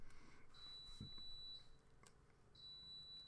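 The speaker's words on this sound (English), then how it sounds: "that beeping. My lunch is ready." A faint electronic beep from a lunch-heating appliance sounds twice, each tone about a second long, over a low steady background hum.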